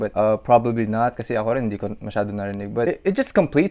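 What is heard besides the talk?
No distinct noise like a dog, phone or traffic.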